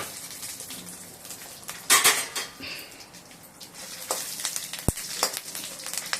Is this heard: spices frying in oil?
yes